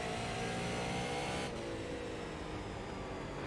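Super late model race car engine in the iRacing video game roars steadily and loudly, its pitch shifting as it holds high revs; the tone drops abruptly partway through as the engine note changes, continuing without any voices.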